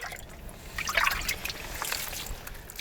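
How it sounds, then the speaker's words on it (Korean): Concentrated salt brine at a tidal-flat salt farm on Gomso Bay trickles out in a faint, steady dribble, with a few close splashy gurgles and no voices. "소금물을 퍼냅니다. 물 나오는 거 보이시죠?"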